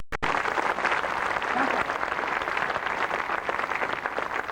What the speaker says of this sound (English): how about a nice round of applause for the lovely?